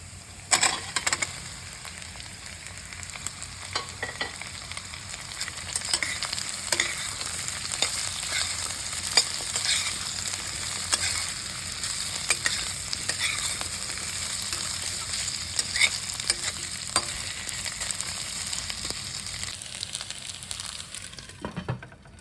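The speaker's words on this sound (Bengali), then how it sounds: "এটা একটু ভাজা সিদ্ধ রান্না সব একসঙ্গে হয়ে যাবে" Cubed chayote root sizzles and fries in a pan with a steady crackle, occasional stirring scrapes, and no talking.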